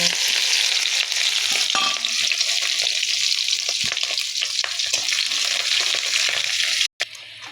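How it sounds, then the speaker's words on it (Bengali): Green chillies and other ingredients frying in hot mustard oil produce a loud, continuous sizzle with light stirring scrapes, cut by a brief silent gap near the end. "সরিষার তেল দিয়ে নিচ্ছি। তেলে এইগুলো পুড়িয়ে নেব।"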